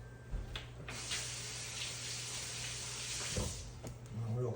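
Tap water runs steadily for a couple of seconds while something is rinsed under it in a kitchen during bulalo preparation, a close, even hiss with brief handling noises before and after.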